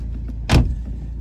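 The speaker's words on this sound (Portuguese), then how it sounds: "Fecha a porta, Biel." A car door shuts once with a short, solid thud amid quiet background hum, no voices.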